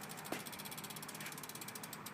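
Rapid, steady clicking of a bicycle freewheel hub ratcheting as the rear wheel spins, fairly quiet and close, an even buzzing tick throughout.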